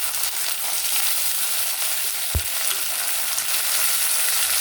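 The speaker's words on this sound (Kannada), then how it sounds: "ಈಗ ನಾನು ಅವರೆಕಾಳು ಏನು ತೊಗೊಂಡಿನಿ ಅವರೆಕಾಳು ಕೂಡ ಹಾಕ್ತಾಯಿದ್ದೀನಿ." Hyacinth beans (avarekalu) fry in a pan with a steady, close hiss and sizzle, broken by one short knock of a utensil near the middle; no talk.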